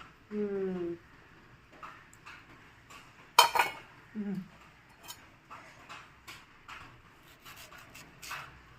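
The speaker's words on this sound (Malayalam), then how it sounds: "ഈ സൈഡൊന്ന് അരിഞ്ഞു നോക്കാം നമുക്ക്" A knife cuts into a ripe mango, producing a few sharp slicing and knocking sounds against a board, with clinks of utensils and brief voice fragments nearby.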